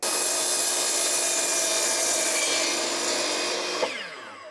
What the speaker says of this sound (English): Let's head out to the saw, cut this guy.